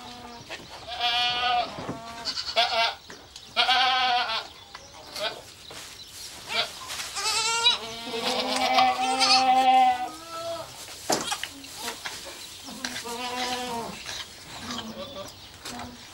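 Goats and newborn kids bleat repeatedly on a farm during birthing, loud, close, wavering calls overlapping one another with short pauses between.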